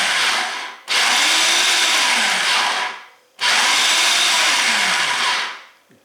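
A Cuisinart food processor chops parsley in two long whirring runs, each starting abruptly and cutting off, a loud close motor roar with the blade's pitch shifting as the leaves break down.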